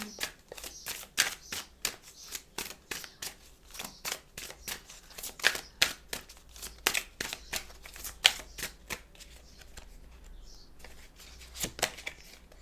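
Oracle cards being shuffled by hand indoors, a quick run of crisp, close flicking snaps in irregular bursts that pause briefly before resuming.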